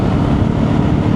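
A Benelli TRK 702 adventure motorcycle pulls away from 30 in fourth gear, heard as a steady, dense low roar of engine and wind with no clear rise in pitch across the short stretch.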